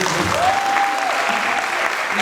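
Office colleagues applauding at a celebration with a cake, a dense burst of clapping throughout with a voice calling out over it.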